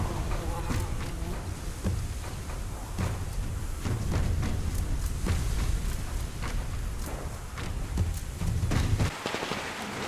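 Steady rainfall weather effect in the video game Metro Exodus, a dense hiss with scattered thumps, heard under a narrating voice throughout.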